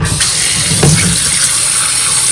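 Cold tap water gushes into a sink, a loud continuous splashing stream with a brief clunk partway through and no voices.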